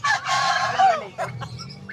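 A rooster lets out a loud, drawn-out crow at a pet market, followed by a few short clucks and squawks nearby.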